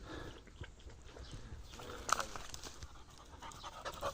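A six-month-old pointer puppy of German bloodline in Georgia pants quickly and softly close by, with rapid breathy huffs and faint background noise.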